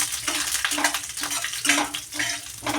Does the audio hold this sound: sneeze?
no